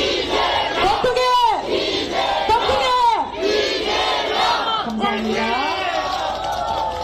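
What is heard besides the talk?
crowd chanting and cheering at a political rally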